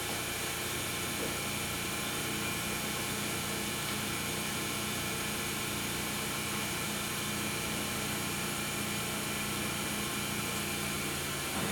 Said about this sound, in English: all you're going to see is the system just spinning at low RPM